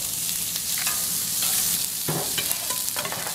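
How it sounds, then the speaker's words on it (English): Fish fillets, blackened style, sear on a grill at about 700 degrees, giving a loud, steady hiss and crackle from start to finish with faint clatter at times. "Here are the filets. We're gonna throw them on there just like that."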